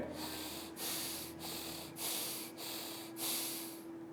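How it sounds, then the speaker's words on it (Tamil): Slow deep breaths in and out during a yoga mudra exercise for asthma, heard as breathy hissing swells repeated about five times in a steady rhythm, close and soft, with no talking. "3 முறை மூச்சை உள்ளெழுத்து மூச்சு வெளியே விடுங்க."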